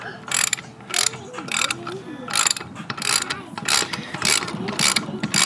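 A ratchet wrench tightening a bolt during valve spring and valve seal installation on an LS engine, with repeated bursts of quick, close mechanical clicking in short rhythmic strokes.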